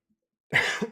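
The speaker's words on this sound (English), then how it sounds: "Why am I coughing?" A single short, close cough bursts out after a moment of silence, with a slight throaty tail at the end.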